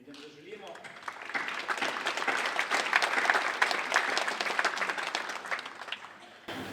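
Applause for the women at a Women's Day gathering of a Ljubljana veterans' association, a sustained round of clapping from a crowded hall that builds and holds steady, then trails off.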